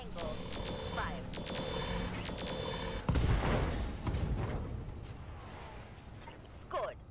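Weapons fire from the BattleTech mod Roguetech, a Jade Falcon battle, with a sharp burst of shots and impacts midway over a steady game soundscape, and someone talking over the gunfire.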